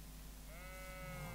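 A single sheep bleats in Minecraft, a steady drawn-out electronic bleat over low background hum, clear and alone with no talking.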